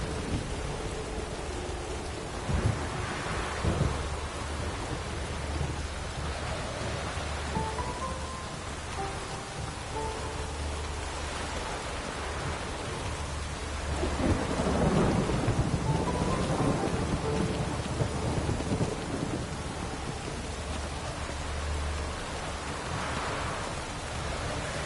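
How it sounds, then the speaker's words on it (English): Heavy rain pours steadily through a thunderstorm in The Witcher video game, with deep rolling thunder swelling several times, loudest around the middle, and no voices over it. "The storm, damn it."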